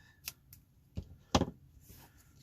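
Scissors cutting through foam tape, a few quiet separate snips with a sharper, louder cut near the middle, heard close and without talk.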